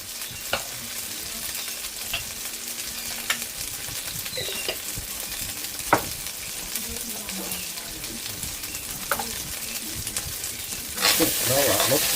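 Tomato paste sizzles in a pan while being stirred for a creamy chicken dish, a continuous close frying crackle broken by scrapes of a utensil and a louder burst of sizzle near the end.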